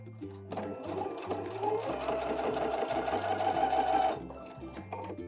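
A domestic sewing machine stitches across a sleeve placket, its rapid motor-driven needle chatter running steadily for about four seconds at close range, bracketed by brief pauses and low handwheel hums at the start and end.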